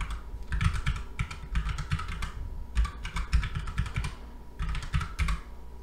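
Bursts of fast typing on a computer keyboard as a password is entered, keys clattering close and loud in quick runs separated by short pauses, with no talk.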